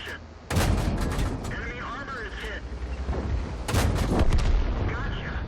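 Two heavy tank cannon blasts from a World of Tanks match, one early and one later, each a sharp booming report over continuous in-game engine rumble and battle noise.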